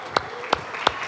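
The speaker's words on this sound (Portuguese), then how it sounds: "Vamos aplaudir, igreja." A church congregation claps in unison at a worship service, three sharp, evenly spaced claps over about a second, close and distinct against a quiet room.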